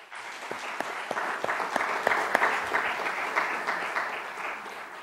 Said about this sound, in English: I think they deserve applause for that.